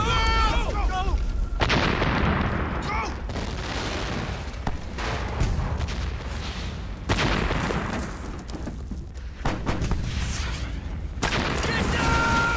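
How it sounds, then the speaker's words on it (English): Heavy artillery fire from a German battleship in a Jackie Chan war film, booming volleys and rumbling blasts over a continuous loud battle din, with shouting voices mixed in. "firing at us from a German battleship!"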